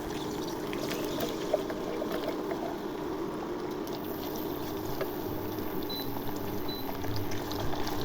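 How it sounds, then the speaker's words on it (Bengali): Chopped onions frying in oil for a beef bhuna, a steady low bubbling sizzle with faint stirring clicks, close and continuous without speech. "পেঁয়াজ কুচি ভেজে নেব"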